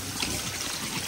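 Water trickles and splashes briefly and softly as it is poured over a child during a bath at home.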